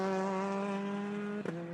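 A Hyundai turbocharged four-cylinder race car engine at a racetrack, droning loud and steady at high revs with a strong buzzing tone that briefly dips as the car shifts or lifts near the end.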